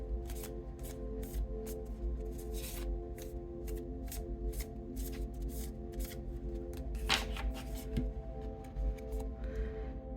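A deck of cards is shuffled and cut by hand, giving a long run of quick, crisp riffling bursts and soft flicks, close and fairly loud against a faint steady hum.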